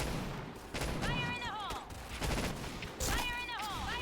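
Bursts of M4A1 assault rifle fire in the shooter game Point Blank, two loud volleys about two seconds apart with ringing metallic tails, over steady game background noise.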